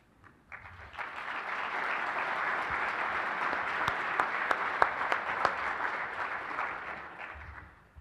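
Audience applause at a Port of Portland awards event as the Commission President comes up to present the Compass Award; dense, steady clapping swells in, holds for several seconds, then fades.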